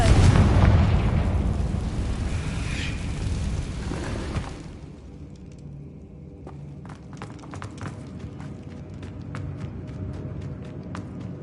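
A Confringo blasting spell goes off in the Hogwarts Legacy video game. A loud, heavy explosion roars for several seconds, then fades into scattered crackles and falling debris.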